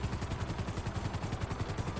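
A blue helicopter in GTA V landing on Mount Chiliad. Its rotor gives a steady, rapid chopping pulse with a continuous engine drone, and no one speaks over it.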